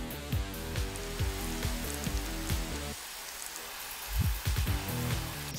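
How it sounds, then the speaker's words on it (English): Water poured over a Hitachi IP56 impact driver to simulate rain patters and splashes in a dense, steady shower of drops, close and fairly quiet, easing briefly midway before picking up again. "Mate, I'm simulating rain."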